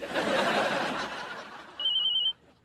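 A mobile phone rings in a brief high electronic burst near the end, following a stretch of noisy chatter and laughter, loud and close.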